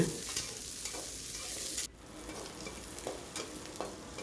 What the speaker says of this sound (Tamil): அதுக்கப்புறமா நம்ம அந்த வெங்காயம் பச்சை மிளகாயெல்லாம் போட்டு எல்லாத்தையும் போட்டு நல்லா வணக்கிக்கலாங்க